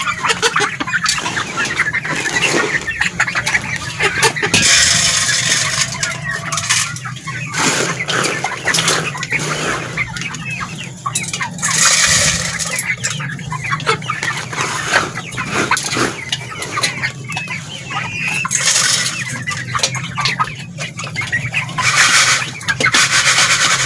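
Lohman Brown hens cluck and scratch while eating at a feeder, a steady busy chorus of close fowl sounds with rustling and pecking throughout.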